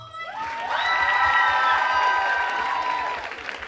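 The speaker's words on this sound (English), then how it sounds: "Fourth place, I wanna hear a big applause is Josie Mood." A crowd cheers and whoops at a beauty pageant reality show as fourth place is announced, high excited voices rising over clapping at close range for a few seconds, then easing slightly.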